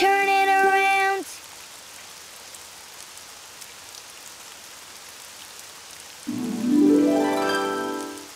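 Steady rain falling outdoors, a soft continuous hiss between sung tonal passages that open and close the stretch.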